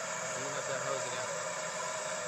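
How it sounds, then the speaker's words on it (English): Blowtorch flame used while working on Ford exhaust manifold studs, a continuous close roaring hiss that holds steady throughout with a voice speaking over it. "Just want the tip of the light blue flame"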